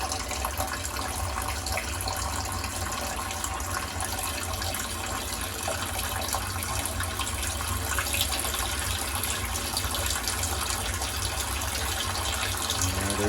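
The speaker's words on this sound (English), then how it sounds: "The water should be starting to rise in both tanks." Water gushes steadily into two aquarium tanks through a swirl filter, a loud, dense and unbroken rushing flow lasting the whole stretch with no voices.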